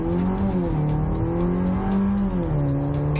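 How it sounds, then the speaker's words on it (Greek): A 2014 Mercedes CLA 45 AMG at full throttle from a standstill, its engine note rising in loud continuous pulls with clear upshifts, heard from inside the car. "στο πάτωμα τον γκάζι"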